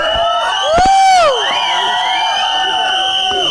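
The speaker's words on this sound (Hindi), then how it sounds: "आप लोग तो इतनी तालियां और शोर मचा रहे हैं" A studio audience at a comedy show cheers and whoops loudly, with a continuous wash of crowd noise and a brief swelling shout near the start.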